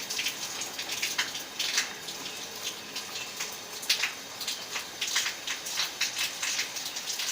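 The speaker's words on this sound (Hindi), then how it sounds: "ये देखिए पानी को उबाल आने वाला है।" A pot of water on the stove heats toward a boil for vegetable rice pulao, with soft, irregular bubbling and popping at a low, fairly quiet level.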